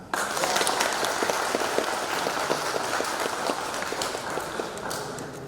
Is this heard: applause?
yes